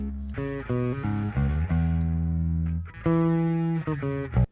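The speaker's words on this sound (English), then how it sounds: "So this is sending to a bass distortion channel." Heavily distorted bass synth notes from a bass distortion channel in a song mix, playing a choppy rhythmic phrase of short and sustained tones, loud and upfront with no talk.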